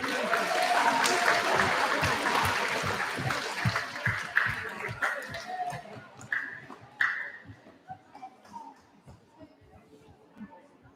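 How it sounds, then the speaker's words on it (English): An audience at a school prize giving claps in steady, full applause that gradually thins out into scattered claps as the room settles. "let's hold our applause to the final ones call out so we can hear it clearly"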